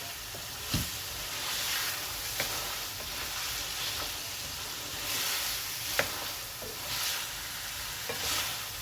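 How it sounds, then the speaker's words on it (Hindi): Tomato masala sautéed for a ridge gourd and mutton curry, a steady hissing sizzle with occasional spoon knocks and scrapes against the pan, close and moderately loud, no voices. "चलिए इसकी भुनाई अच्छे से करूँगी,"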